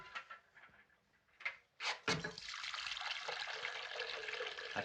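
Water runs steadily into a container in a 1937 hospital scene, a few clinks and knocks first, then a continuous close pouring rush that holds for several seconds.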